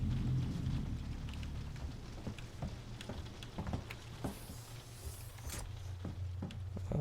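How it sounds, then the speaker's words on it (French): Rain pattering in the sci-fi survival horror game Alien: Isolation, a faint steady patter over a low rumbling ambient drone, with occasional sharper drips and knocks. "Ah mais il pleut en fait, mais c'est pas possible, on est dans l'espace."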